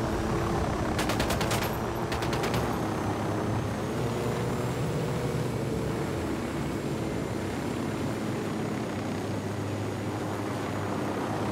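In Ghost Recon Wildlands, a few quick bursts of rapid gunfire crack out early over a loud, constant roar of engine and wind, much like a helicopter.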